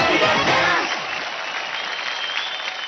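Audience applause and cheering on a televised dance competition stage, a loud burst that settles into steady sustained clapping in honor of Mithun Chakraborty.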